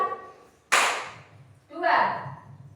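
Two sharp hand claps, close and loud, are spaced about a second apart in a count, breathe and clap group exercise. The second clap is broader and more ringing, and a voice murmurs faintly before them.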